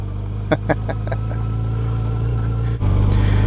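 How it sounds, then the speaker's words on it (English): Yamaha FJR1300 street motorcycle on street tires ridden over a loose-rock road, its steady engine rumble and road noise close and continuous, with a brief dip near the end before the drone resumes. "On these street tires, on this street bike."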